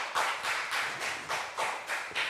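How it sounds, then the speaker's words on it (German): A single person claps hands in a steady rhythm, about nine crisp claps close by with no talk over them; a football fan applauding on a sports talk show. "Ein Bayern-Fan klatscht."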